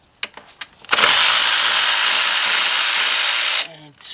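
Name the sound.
power tool removing 10mm alternator bolts on Ford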